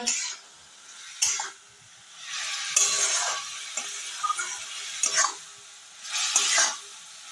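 Bet shak greens seasoned with salt and turmeric are stirred in a frying pan, giving several loud bursts of spatula scraping over a steady close sizzle, with pauses between strokes.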